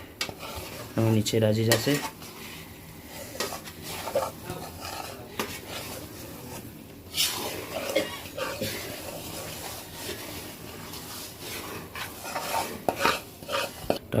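Jaggery being stirred into a mixture in a pan, with scraping and clinking of a utensil against the metal running steadily throughout, under a voice speaking intermittently.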